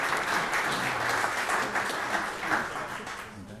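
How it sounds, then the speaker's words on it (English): Sustained applause from an audience at a property owners' association board meeting, steady dense clapping for several seconds that tapers slightly at the end. "That got the biggest claps."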